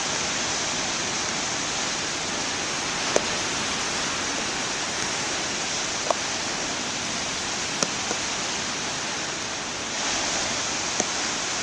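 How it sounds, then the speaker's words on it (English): Steady, dense wash of surf noise with no distinct breaks, broad and constant like waves rolling in continuously, with a few faint clicks on top. "I just like the sound of the waves."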